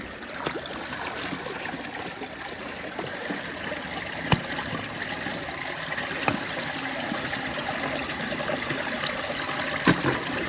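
Flood water drains in a steady, soft rush and trickle, a continuous flowing wash with a few faint knocks, heard at a distance with no talking.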